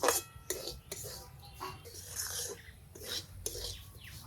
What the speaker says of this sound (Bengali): কিশমিশ সুজি একসাথে ভেজে নিচ্ছি